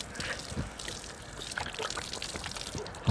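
Water trickles and splashes from a small tap worked by an electric foot pedal in a camper car's compact sink, a close uneven pouring stream with faint background noise.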